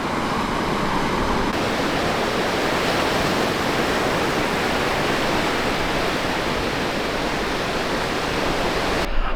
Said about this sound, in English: I just stopped at Dead Man's Beach